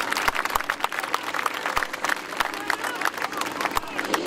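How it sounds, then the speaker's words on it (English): Crowd applause with scattered cheers rings out at an outdoor motorcycle display right after a stunt trick, sharp claps dense and steady throughout, fairly near and lively with no voices standing out. "Ladies and gentlemen, that definitely deserves a round of applause there."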